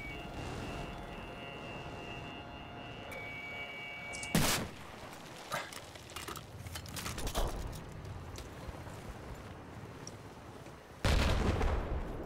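Explosions and gunfire from a Battlefield 4 battle: scattered rumbling shots and blasts throughout, with two loud, sudden explosions standing out near the middle and at the end.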